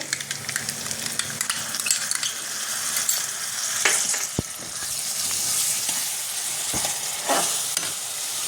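Onion fries in a pan as ginger-garlic-chilli paste, cashew paste and sour yogurt go in, giving a loud, steady sizzle with scraping stirs and a few sharp clinks of the spoon.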